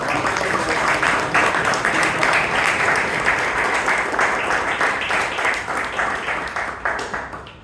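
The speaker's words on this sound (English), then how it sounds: "Please give him another round of applause" Audience applause at a Toastmasters club anniversary meeting in Bangalore, dense steady clapping from a roomful of people, loud and sustained for several seconds before tapering off at the end.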